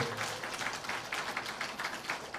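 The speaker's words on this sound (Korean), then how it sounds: "박수 한번 드리겠습니다" Applause from a church congregation after a choir's praise song at a Sunday worship service, a steady wash of many hands clapping at moderate distance, continuous and fairly soft with no talking over it.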